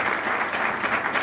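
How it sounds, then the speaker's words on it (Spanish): Church congregation applauding during a Spanish-language Bible study service, a steady dense wash of clapping hands filling the room for the whole moment with no break. "No sé si hay algún aplauso a la palabra del Señor en esta hora."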